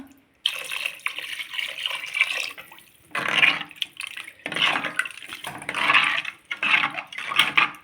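Water runs and splashes in bursts as it is poured into a fish curry pot, in several pulses with short pauses between, close and fairly loud.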